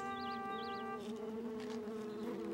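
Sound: bee buzzing over flowers

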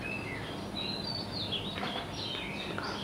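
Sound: birds chirping in forest at sunrise

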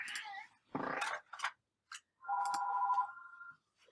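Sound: phone ringing in the background

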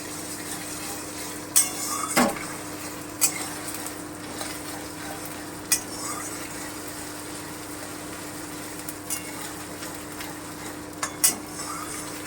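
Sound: ginger paste frying lightly in a pan

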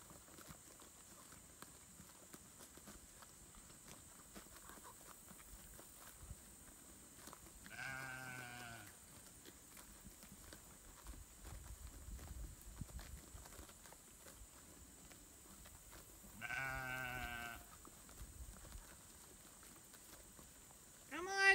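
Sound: sheep bleating

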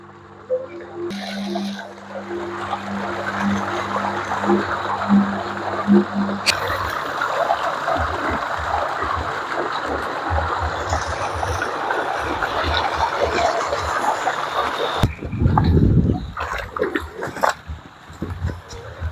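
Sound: water flowing from a large irrigation tank on a cassava farm

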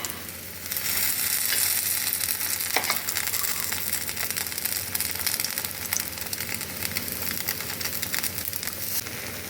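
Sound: pancakes frying in a pan

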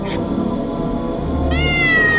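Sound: cat meowing

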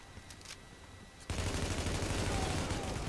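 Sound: gunfire in the video game The Division

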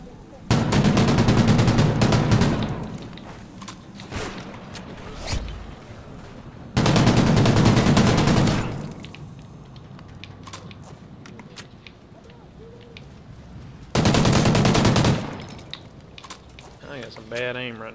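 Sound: gunfire in video game Call of Duty Ghosts

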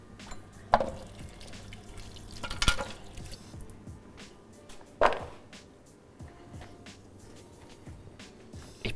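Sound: washing organic carrots under running water

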